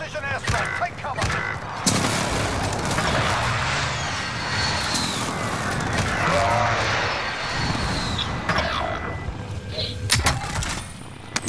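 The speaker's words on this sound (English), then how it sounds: "Enemy precision airstrike, take cover!" Video game enemy precision airstrike, a sustained loud barrage of rumbling explosions and crackling impacts lasting several seconds with sharp bursts near the end, while players talk over it.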